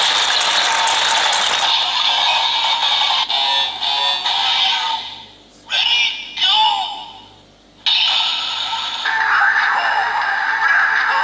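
A Kamen Rider DX Evol Trigger toy has its mechanism turned, giving loud close ratcheting clicks and plastic gear whirring with a few brief pauses and bursts, and electronic sound effects behind.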